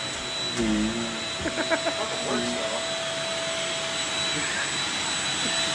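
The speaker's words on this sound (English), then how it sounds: "Vacuuming our ceilings." Vacuum cleaner running steadily and loudly while cleaning the ceiling inside an RV, a constant whine with brief voices talking over it near the start.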